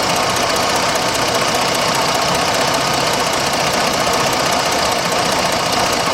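A 2006 Jeep Grand Cherokee Laredo with the 3.7 engine idles after a cylinder 3 misfire repair, giving a steady, even, close-up running drone with a light ticking knock throughout and no talking.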